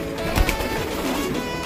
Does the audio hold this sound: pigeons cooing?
yes